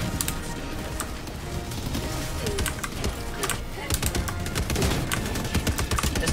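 Video game gunfire from a hard-recoiling weapon in Helldivers 2 pops in quick repeated shots over a dense, noisy game mix, with the bursts thickening toward the end.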